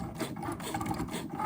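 A Cricut Maker cutting machine works through vinyl with a fine-point blade, giving a close, busy mechanical whir with rapid gear-like ratcheting and clicks throughout a short stretch.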